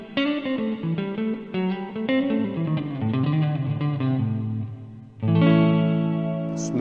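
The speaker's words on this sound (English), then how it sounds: "we have 3 different algorithms of reverb in there. We have a roomy tone." Guitar played through a Crazy Tube Circuits pedal set to a roomy reverb algorithm, a run of notes with a short break and then a sustained chord blooming into a lingering, room-like tail, alone with no talk.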